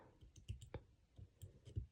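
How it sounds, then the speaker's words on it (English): Quiet, close scissor snips through fabric click in a quick irregular series of small cuts, faint and alone without talk. "It's a little snip as well on this side."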